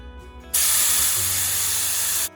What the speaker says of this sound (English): you can air down to the tyre pressure you need